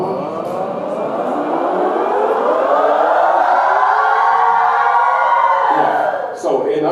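Several voices together sing a vocal siren, sliding in pitch from low up to high and back down in a loud, sustained glide that mimics a wailing siren, ending with a brief break.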